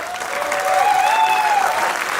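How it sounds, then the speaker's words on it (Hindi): An audience at a Nautanki folk-theatre show applauds with steady, dense clapping that swells slightly in the middle, with a faint voice underneath. "इसलिए श्रेया जी के लिए जोरदार तालियां जरूर बजाएं"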